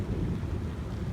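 Low rumbling thunder rolls continuously through a rainy winter ride in Alberta, mixed with wind buffeting, fairly loud and steady without a sharp crack.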